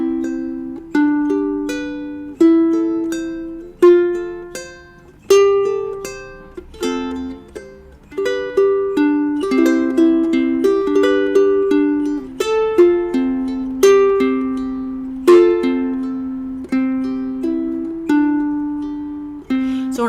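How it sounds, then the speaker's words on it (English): A ukulele chord is picked one note at a time as an arpeggio, bright plucked tones ringing in a steady repeating pattern, close and clear with no voices. "So you break up a chord into the notes, usually in one direction, like this."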